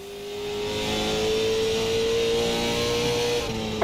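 Race car engines in a racing video game hold a sustained, revving drone that climbs slightly in pitch and stays loud and even for several seconds, with no talking over it.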